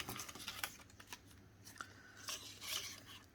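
Scissors snipping a strip of designer paper for a gingerbread-and-peppermint money wallet craft, a few close, crisp cuts spaced unevenly over a quiet indoor background.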